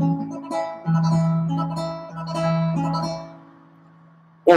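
Classical guitar tremolo on Recuerdos de la Alhambra, played deliberately uneven: a sustained bass line under repeated rapid treble notes with irregular timing, close and solo, ending in a brief sharp knock.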